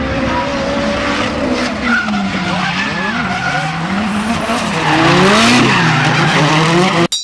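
Tires squeal and skid loudly as two cars tandem drift around a track, with a sustained, wavering screech over engine roar that rises near the end before cutting off abruptly.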